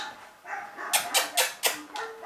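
A dog barks in a quick series of about four or five sharp, loud barks close by, with only faint sound around them.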